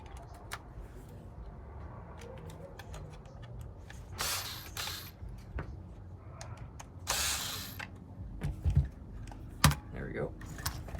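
Small screws are removed from the shock tower of a Rustler 4x4 RC car with a hand tool, giving faint clicks and scrapes plus a few short louder bursts of tool noise.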